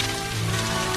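Steady, dense rain falls from start to finish in a Spider-Man 1994 animated series scene, a loud, even wash with no talk.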